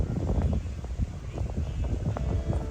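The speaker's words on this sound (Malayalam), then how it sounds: "നല്ല കാറ്റുണ്ട് കേട്ടോ" Strong wind blowing across open village fields in Kollangod, Palakkad, a loud buffeting rumble against the microphone with rustling gusts.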